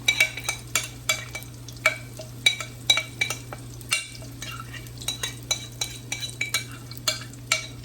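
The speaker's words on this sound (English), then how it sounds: "You want to hear that sizzle." Cornbread batter poured into a hot pan for a pinto bean and tomato supper sizzles steadily, with repeated close clinks and scrapes of a utensil against the pan over a constant low hum.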